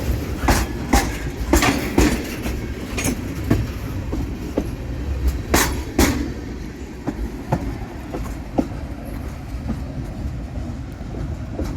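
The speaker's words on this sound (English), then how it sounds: "right after we caught that train crossing through" A train crossing on old tracks in Eagle Lake, Florida, passing close by with a rumbling roll and repeated sharp clickety-clack wheel impacts at the rail joints, heavy at first and gradually thinning out.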